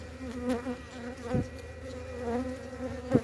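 Honeybees buzz steadily close by at an open hive, a continuous droning hum with occasional louder passes as individual bees fly near.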